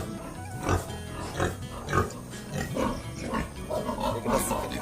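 Pigs on a small village home farm grunt repeatedly, close and moderately loud, with low snorting grunts at irregular intervals over a steady background.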